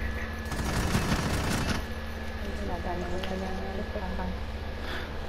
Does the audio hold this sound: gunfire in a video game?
yes